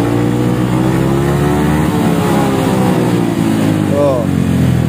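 A Yamaha XMAX 250 scooter on its stock exhaust revs to 8000 rpm, giving a loud, steady engine drone with rising harmonics throughout, while someone talks over it.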